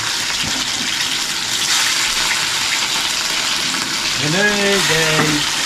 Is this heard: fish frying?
yes